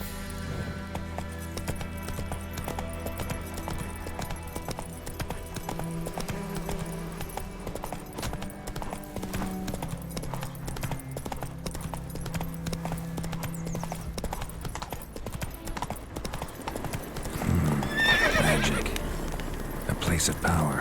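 Roach the horse from The Witcher 3 trots with steady clip-clop hoofbeats over a continuous music bed, with a louder burst near the end that may carry a whinny.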